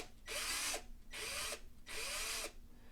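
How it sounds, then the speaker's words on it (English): A power drill bores out a rivet on a Hot Wheels die-cast car in three short, even bursts, each about half a second long and separated by brief pauses, with a whining motor close by. "so I'm going to continue to drill"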